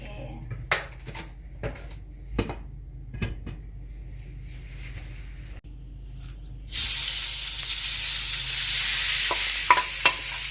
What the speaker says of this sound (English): In goes the oil.